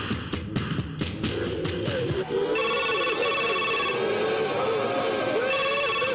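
A phone being dialed in a dubbed Hindi action film scene: a burst of quick keypad presses, then a steady electronic ringing tone that repeats in bursts, loud and close over a low background rumble.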